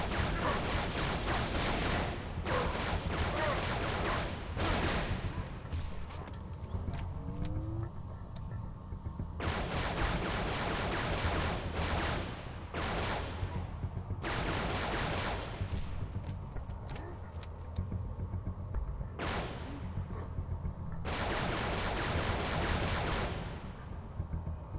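Dense rapid gunfire from the video game Halo 3 runs almost without a break, loud and close, with bursts of shots, heavier blasts and mechanical clanks layered over one another.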